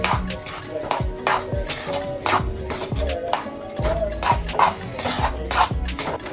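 A spoon stirs spiced potato filling for batata vada in a pan, rhythmic scraping strokes roughly every second, close and steady, with a voice talking in places.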